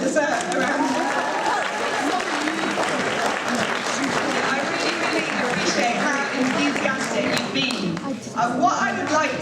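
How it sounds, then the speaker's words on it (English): A crowd at a youth public-speaking challenge event in London applauds itself, sustained dense clapping mixed with cheering and chatter, running continuously and slightly fading near the end. "you also deserve a round of applause"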